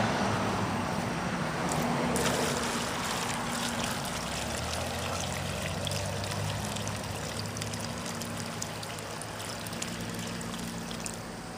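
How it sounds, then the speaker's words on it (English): Water poured onto the soil around a freshly planted peony, a steady trickling stream that runs continuously, slightly louder at first and then even, with faint traffic far off. "Again, you want to water this in."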